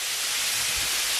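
Cod sizzling in a very hot pan: a short burst of intense, broad frying hiss, close and loud, with no talk over it.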